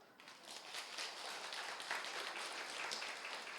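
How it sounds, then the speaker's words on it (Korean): Congregation applause at a Korean church revival service: a dense, steady wash of clapping that holds evenly throughout, fairly close and with no voices over it. "박수"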